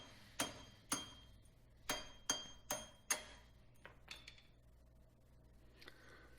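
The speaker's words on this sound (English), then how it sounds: "I'm just going to try and smack it out of there." A wheel stud is hammered out of the rear hub of a Grand Caravan, VW Routan or Town & Country. About seven sharp, ringing metallic blows come at uneven intervals, then a few fainter taps.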